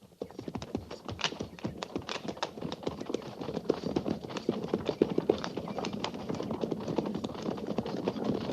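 Horses trot along a trail as an old-time radio drama sound effect, a steady clip-clop of hooves continuing throughout at moderate volume with no talk over it.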